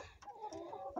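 Chickens clucking close by, a run of short throaty calls with a louder squawk near the end, no talk over them.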